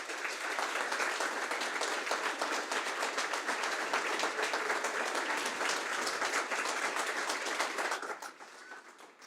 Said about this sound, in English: give a big round of applause for all the organizers that were not visible